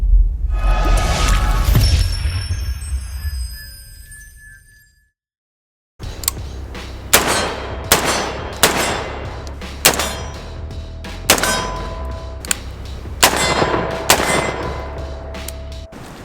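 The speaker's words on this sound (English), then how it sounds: "Springfield Armory St. Victor AR pistol chambered in 308." A Springfield Armory Saint Victor AR pistol chambered in .308 fires about seven loud, sharp shots at a steady pace, each with a short ringing tail, after an opening crash-like burst and a brief silence.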